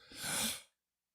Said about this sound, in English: Uh-oh, sneeze coming on.